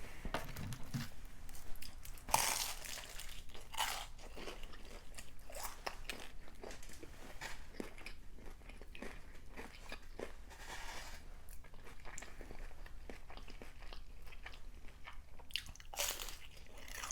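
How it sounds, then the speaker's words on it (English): Crunchy Vietnamese egg rolls bitten and chewed up close, a sharp loud crunch early on followed by a steady run of crackly chewing and smaller crisp bites throughout, with no talking. "Vietnamese egg rolls go crazy. Y'all hear that crunch?"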